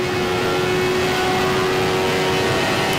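A 1988 CART Indycar in the Automobilista racing game, its engine holding a loud, steady high-pitched whine with a constant tonal drone while the car slides, continuous and close with no voices.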